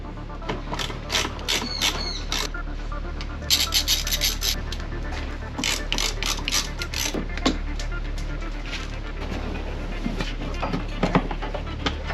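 Plastic trim piece being pulled off and worked around a car fender, with repeated scraping, rubbing and creaking bursts in an irregular rhythm, close and moderately loud, over a steady low background hum.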